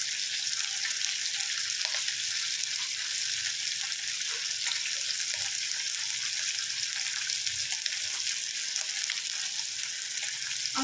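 Small hilsa fish frying lightly in a pan over fairly high heat, giving a steady, close hiss of sizzling oil throughout with a few faint clinks, no voices.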